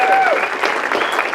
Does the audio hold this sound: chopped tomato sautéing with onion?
no